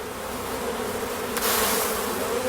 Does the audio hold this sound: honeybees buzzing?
yes